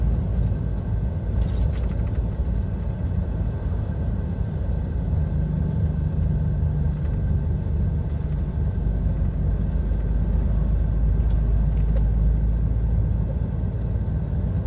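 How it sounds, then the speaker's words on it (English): Seen from the cab of an HGV lorry, heavy oncoming traffic passes on a road near Frome in Somerset. A constant low engine rumble fills the cab, and a few brief swells mark vehicles going by. "Traffic coming towards, it's quite heavy"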